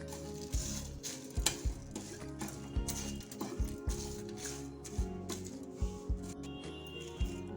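Whole Kashmiri red chillies and spices roasting in a pan, with a steady close sizzle and repeated stirring scrapes and knocks of a utensil against the pan, heard alone without talk.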